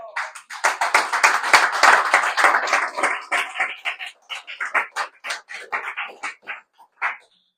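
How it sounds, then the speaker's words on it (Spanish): A church congregation at a Sunday service breaks into applause. A dense burst of clapping thins into a looser, rhythmic patter that fades out near the end. "Yo quisiera que le diera un pequeño aplauso al Señor."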